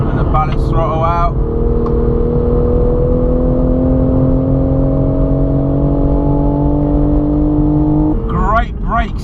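A 2020 Toyota GR Supra with a very torquey engine and 8-speed Steptronic gearbox drives hard on a track, its engine holding a steady loud drone with rising pitch, while brief voices come in at the start and end.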